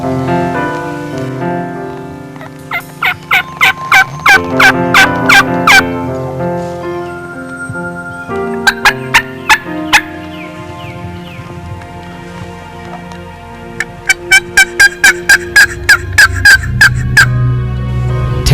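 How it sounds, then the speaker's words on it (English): Wild turkeys gobble loudly and repeatedly during a spring hunt, with rapid rattling bursts of calls coming near and clear in several clusters with no talk over them. "Another turkey just kind of gobbled back behind us"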